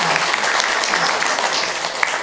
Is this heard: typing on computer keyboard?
no